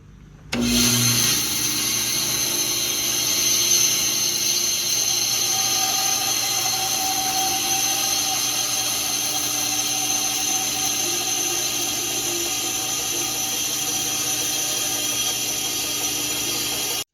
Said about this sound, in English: And then from there, we're gonna go over to the bandsaw.